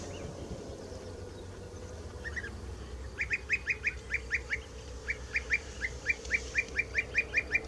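European bee-eaters at Malras call in a quick, rhythmic series of short rolling notes, fairly distant and soft, starting with a brief pair and then repeating steadily over a low background hum.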